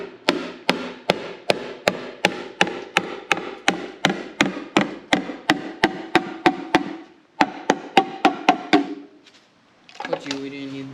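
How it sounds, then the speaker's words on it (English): A brass hammer strikes metal in a steady rhythm of sharp, ringing blows, about two per second, during an MG Midget 1275 engine teardown, pausing briefly before a few more hits as a voice speaks. "Brass hammer first"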